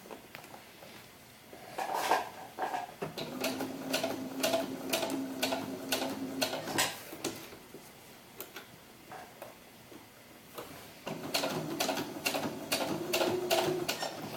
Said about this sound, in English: I'm going to sew the bottom down. I'm going to go right over that same line of stitching.